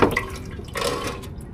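Transmission fluid from an Allison 2400 gushes steadily into a drain pan close by, a continuous watery pouring with a sharper splash at the start and no talking.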